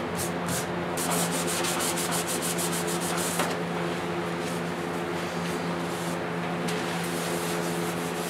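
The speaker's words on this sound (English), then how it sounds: "Just taking a little bit of 400 grit here, just roughing up some of the little areas" Hand sanding painted car interior panels on a 1956 Mercury with 400 grit sandpaper, steady rapid back-and-forth scrubbing strokes, close and continuous throughout with no talk.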